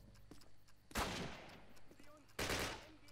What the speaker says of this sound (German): Ha, ich hab dir ins Knie geschossen.